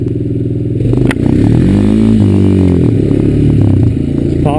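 A Honda Recon ES ATV engine revving hard close by while popping a wheelie, a loud steady drone that rises and falls in pitch with some clatter and no talking.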